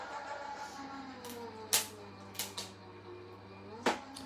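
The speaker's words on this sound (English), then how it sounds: "So I've just popped it through our little Gemini Junior." A Gemini Junior die-cutting machine feeds a card through, giving a few sharp mechanical clicks and clunks over a low steady motor hum.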